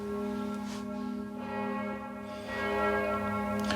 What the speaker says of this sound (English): That's just the bells of the Catholic Church ringing.